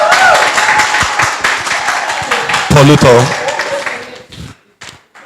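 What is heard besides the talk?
audience applause for a speaker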